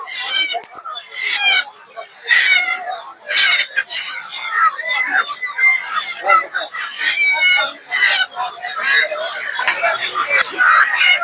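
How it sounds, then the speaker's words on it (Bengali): Domestic chickens and roosters at a busy village poultry market squawk and cluck in dense, overlapping bursts, fairly close and loud, with people talking among them throughout. "দেখতে পাচ্ছেন এদিকে হচ্ছে দেশি মুরগি এগুলো সব"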